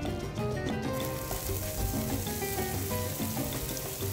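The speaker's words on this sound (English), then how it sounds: "a little bit of oil. Just grease it up a little bit. And then we put our onions down." Diced onions sizzle steadily in oil on a Blackstone flat-top griddle, a close, loud, continuous frying hiss with no talking.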